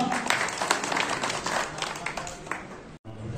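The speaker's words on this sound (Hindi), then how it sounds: "जोरदार तालियां बजाएं साहब।" Applause from the crowd at a Samajwadi Party workers' meeting in Kiratpur, steady broadband clapping over about three seconds with a brief drop near the end.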